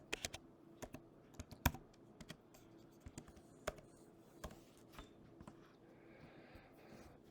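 Fingers type on a MacBook keyboard, a soft run of uneven clicks with a few firmer key taps, faint and close in a quiet room.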